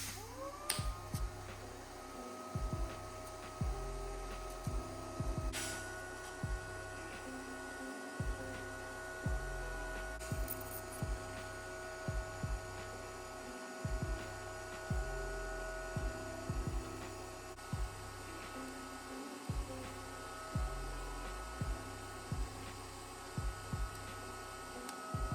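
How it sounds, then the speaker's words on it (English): A Honda shift linkage is welded to its center shaft in short repeated bursts of buzzing crackle, each pass stopping and restarting at a steady pace over a constant electrical hum. "I'm just gonna go ahead and weld this up and fuse that to the center shaft right here"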